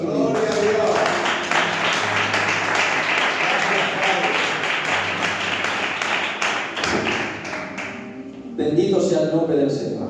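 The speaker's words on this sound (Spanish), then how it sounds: "¿Cuánto dan un fuerte aplauso a nuestro Dios?" A church congregation breaks into loud, sustained applause that fills the room for several seconds and then fades, followed by a short burst of voices near the end.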